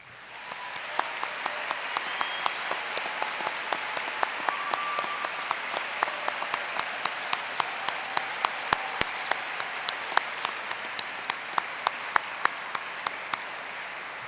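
An audience at the Miami Herald Silver Knight Awards ceremony applauds students and teachers, a steady wash of many hands with crisp individual claps standing out, moderately distant and continuing for the whole stretch.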